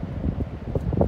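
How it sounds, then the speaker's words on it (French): Strong wind buffets the microphone on the Vaches Noires seaside cliffs, producing a rough, gusty low rumble for about a second, close and loud. "Malheureusement il y a beaucoup de vent. Je suis en plein vent"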